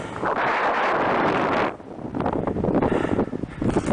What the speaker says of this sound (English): The wind is so amazing.